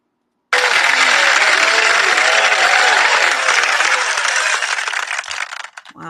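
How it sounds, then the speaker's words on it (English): Loud, dense audience clapping, a sustained wash of many hands beginning abruptly and continuing evenly before tapering off near the end, with no speech over it. "There's a lot of people in the audience clapping."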